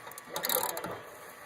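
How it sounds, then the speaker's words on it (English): A ratchet clicks quickly and quietly for about a second, backing bolts out of the rusted gear shifter mount on a 1993 Lowes MTD riding mower, with no talking. "Right now I'm taking out the bolts that hold up the gear shifter in the middle"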